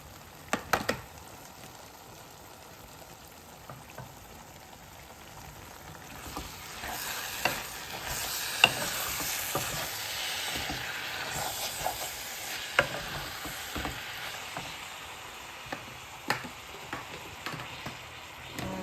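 Spice paste (masala) is stir-fried in a pot with a steady sizzle and scattered scrapes and taps from a stirring utensil. The hiss grows fuller and louder partway through. Close, no talking.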